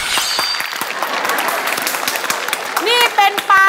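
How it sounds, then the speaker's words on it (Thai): Children in a classroom clap their hands in brisk, dense applause, with a teacher's voice talking over the clapping near the end. "ปรบมือสิลูก"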